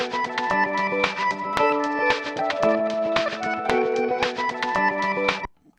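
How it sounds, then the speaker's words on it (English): A drum loop with a bright rhythmic groove runs through low-pass and high-pass filters, steady hits layered with tonal accompaniment, alone until it stops abruptly near the end. "so the drums will sound like this"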